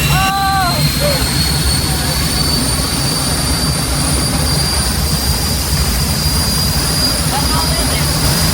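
A fighter jet engine fitted into a mini truck spins up, giving a loud, steady roar with high whining turbine tones that hold across the clip, close and dominant.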